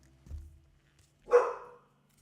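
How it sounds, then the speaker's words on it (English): A single short dog bark rings out at a distance after a soft thump, with quiet around it and no talking. "There's some dogs barking here."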